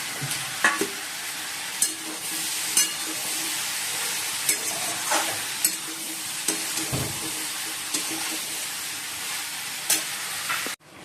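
Small fish frying in a pan, a steady close sizzle punctuated by sharp spatula clicks and scrapes at irregular intervals, ending abruptly.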